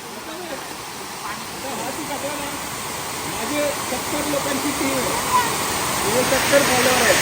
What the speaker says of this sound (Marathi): हे वाहत पाणी खाली जाते